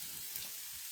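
Vegetables and potatoes frying in oil in a pan, a faint steady hiss of sizzling oil, brief and even with no talk.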